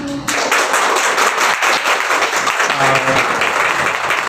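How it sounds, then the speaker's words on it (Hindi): Loud, sustained applause from a crowd, many hands clapping densely for several seconds, with a few voices mixed in before it cuts off abruptly. "एक बार जोरदार ताली बजाइएगा"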